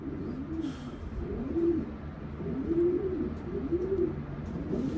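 Prize-winning racing pigeons from Utah coo steadily in a loft, their low rolling calls repeating close by in a soft rhythmic pattern with no talking.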